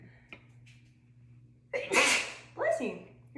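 A single loud sneeze, triggered by seasoning in the nose while cooking, erupts close by after a short quiet stretch, with a brief catch of breath before it and a second burst right after.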